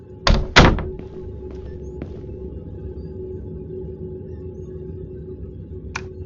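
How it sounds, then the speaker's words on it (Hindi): A door in the Indian horror video game Kamla slams shut with two heavy thuds in quick succession, followed by a low steady room hum and a faint knock near the end. "दरवाजा बंद कर देते।"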